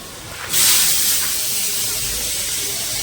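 Pointed gourd and potato rubbed with salt and turmeric drop into hot oil, setting off a sudden loud hiss that continues as a steady close sizzle.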